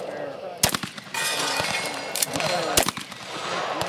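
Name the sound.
gunshots at cowboy action shooting match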